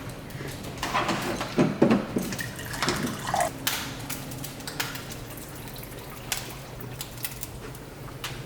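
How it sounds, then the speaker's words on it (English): Water pours into a pan of hamburger meat sauce, bubbling splashes and a gurgling hiss early on, followed by a few spoon knocks against the pan as the sizzle carries on. "you'll add in a little bit of water."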